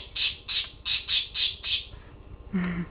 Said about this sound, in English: Birds don't just run around screaming like that, for example, and biting people.